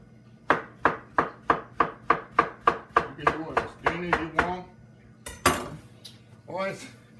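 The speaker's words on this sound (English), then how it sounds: "So we're gonna slice the bananas up here." Bananas sliced for banana cream pie, a quick even series of about a dozen knife taps on a board, close and clear, followed by a few looser clatters.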